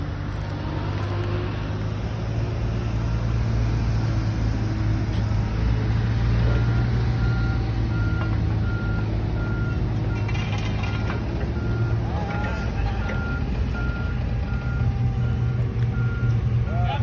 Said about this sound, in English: Today we are gonna pick up a dime with the forklift.